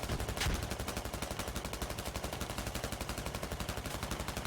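A tank's coaxial machine gun firing in the video game Squad, after a frag rocket shot, heard as a steady, rapid stream of evenly spaced shots with one heavier blast near the start, fairly faint and alone.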